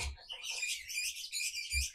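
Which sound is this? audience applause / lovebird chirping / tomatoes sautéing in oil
lovebird chirping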